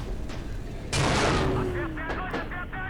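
A KV-1E tank cannon fires an armor-piercing shell in the Steel Fury tank game, a single loud, close blast with a broad roar that rings out and fades over about a second, followed by faint mechanical clatter.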